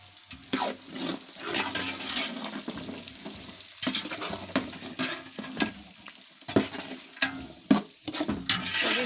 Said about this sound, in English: I'll be adding my green peas and also chopped carrots into the pot and also green pepper